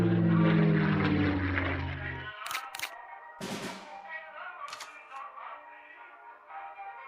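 A bomber card being played in the WWII card game KARDS triggers a propeller aircraft engine drone that swells and fades, followed by short clicks and interface tones, with no voices.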